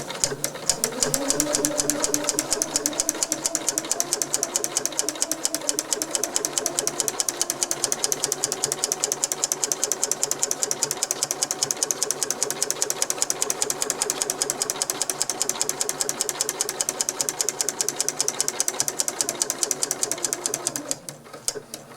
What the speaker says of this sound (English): I got that set in the machine, and I got my foot down now.